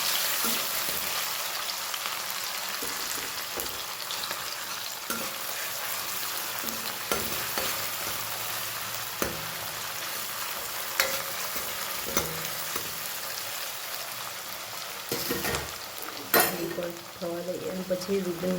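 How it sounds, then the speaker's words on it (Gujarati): Tomato and garlic-chili paste is stirred and fried in a pan, giving a steady broad sizzle with scraping stirs throughout, close and moderately loud, with a brief louder clatter near the end. "સરસ મિક્સ કરી લઈએ."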